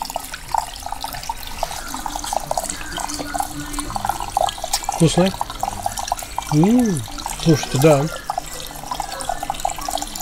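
Water runs steadily from a public spring tap in Melitopol, Ukraine, a constant splashing stream under nearby conversation from a couple of people.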